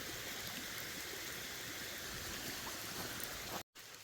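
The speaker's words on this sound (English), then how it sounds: "So the water, instead of bursting through the dam, the water flows around this way." Water streams steadily around a small dam and out through a narrow spillway at an off-grid building site, a close, continuous rushing trickle that cuts out for a moment near the end.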